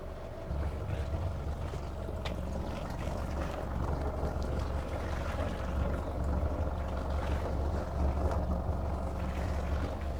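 Low rumbling engine of a Beneteau Swift Trawler 41 motor boat manoeuvring into a berth, running steadily, with wind and water noise over the top and no clear breaks.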